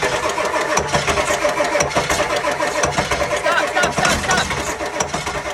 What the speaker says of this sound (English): We cannot get the truck to start.